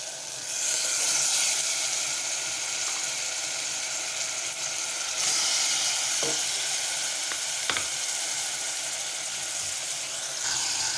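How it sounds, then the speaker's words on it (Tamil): Chicken pieces sauté in a pan with ginger and garlic, a steady close sizzle and fry hiss throughout, with a few faint stirring clicks and no talking. "இப்போ இது நல்லா வதக்கிக்கலாம்."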